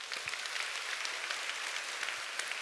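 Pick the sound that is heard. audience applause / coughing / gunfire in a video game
audience applause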